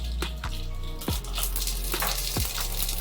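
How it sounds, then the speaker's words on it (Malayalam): Mustard seeds splutter in about three tablespoons of hot oil in a pan for a chicken curry. A constant loud sizzle is broken by several sharp pops and crackles close by. "ഓയിൽ ചൂടായി വരുമ്പോൾ നമുക്ക് കുറച്ച് കടുക് പൊട്ടിക്കാം"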